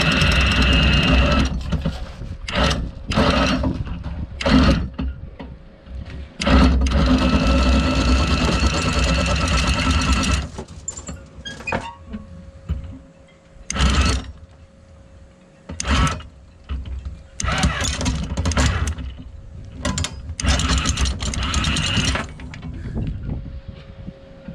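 The anchor windlass motor on a sailboat runs loud and close as it hauls in the anchor chain. It whirs in long stretches that stop and start again, with short pauses between the runs.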